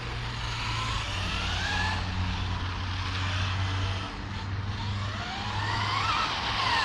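X-Maxx RC stadium truck on MCD street tires with 24/35 gearing, drifting outdoors: a steady, loud whining motor drone with tire hiss and shifting pitch sweeps, continuous throughout.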